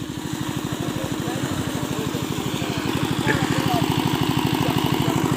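A farm machine preparing a rice seed bed runs with a steady, fast chugging engine beat that stays loud and close throughout, growing slightly stronger toward the end.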